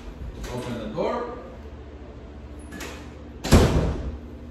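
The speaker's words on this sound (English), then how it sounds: "Open the door." A room door is opened during a dog-training session at home, with a few soft knocks early on and a sharper, louder thump near the end, under nearby talking.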